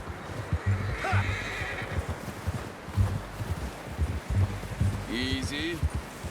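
A horse in the Red Dead Redemption 2 video game whinnies twice in a snowy setting, over soft clip-clop hoofsteps and rustling, with in-game characters talking around it.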